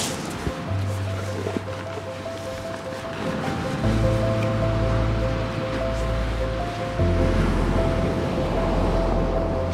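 Rough sea waves break and wash on the shingle of Chesil Beach, a steady roaring surf with wind, overlaid by sustained low droning tones.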